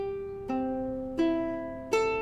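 Three ukulele strings plucked one after another at a steady pace, each note ringing out clearly and decaying before the next, tuned G C E A and played alone up close.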